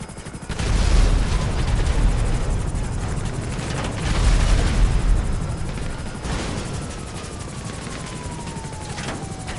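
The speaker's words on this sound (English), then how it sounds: "Come on, helicopter, come on." A helicopter in the video game GTA 5 flies with a loud, continuous rotor and engine roar, swelling and fading twice, with no talk.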